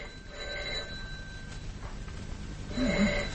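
An old telephone bell rings unanswered in a radio drama, with a faint, distant ring in two bursts over a quiet room-tone background.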